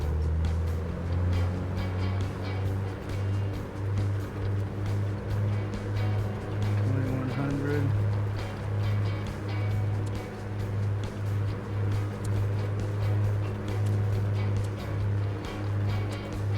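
The twin piston engines of an A2A Aerostar 600 in a flight simulator hum steadily through a run-up, a constant low drone with a slight pulsing rise partway through.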